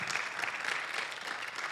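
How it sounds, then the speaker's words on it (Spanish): Applause for the Lord during a church service, a congregation clapping steadily as a dense, even patter for under two seconds, fairly faint and heard alone. "a lot of applause to the Lord."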